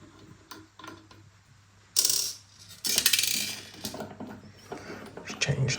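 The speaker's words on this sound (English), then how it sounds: "Let's take the screw off." A screw being taken off, heard as quiet clicks and small metallic rattles, then two louder bursts of scraping and clattering as it comes loose, close up.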